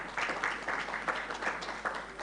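A conference audience applauds, steady clapping with small swells, fairly faint and somewhat distant, with no voices over it.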